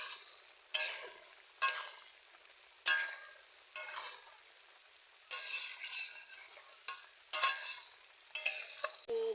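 Fried shrimp and chickpeas going into a pan for a pumpkin curry make a series of short scraping stirs and bursts of sizzle, roughly one each second, close and fairly quiet against silence.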